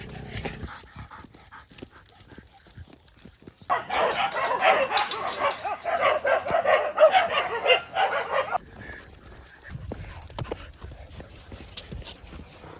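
Big, beefy dogs at an animal sanctuary in Sangkhlaburi, Thailand, bark and yip in a loud, busy burst lasting several seconds, set between quieter outdoor stretches.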